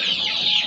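Free-range Indonesian village chickens (ayam kampung) on a farm cluck in a brief, close, steady burst of bird calls.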